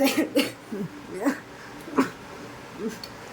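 Several short, soft coughs come at irregular intervals, close by and fairly quiet, with faint background noise between them.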